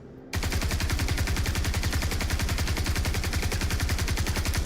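Rapid automatic gunfire from a weapon in a video game, a steady stream of evenly spaced shots sustained loud and close for several seconds after a brief quiet start.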